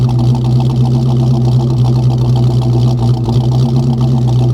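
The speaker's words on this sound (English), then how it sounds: "Listen to that exhaust" A car exhaust idles close by with a loud, steady, throbbing burble and an even low rumble throughout.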